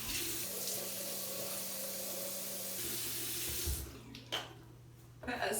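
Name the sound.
running tap water, wetting face at sink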